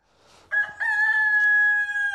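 A rooster on a rural homestead gives one long, drawn-out crow, loud and close, with nothing else around it.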